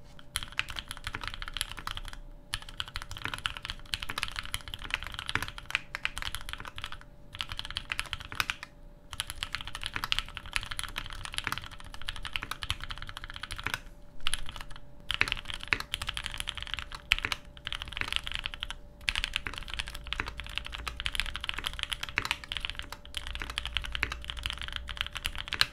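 Typing on a custom OTD 456GT mechanical keyboard with vintage West German Cherry MX Black linear switches, recorded close to the keys: a dense, continuous run of crisp clacks and thocks with only brief pauses.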